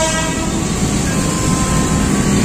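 Steady loud rumble and hiss of a KRL electric commuter train rolling past nearby in Tangerang, Indonesia, continuous for the whole stretch with no voices.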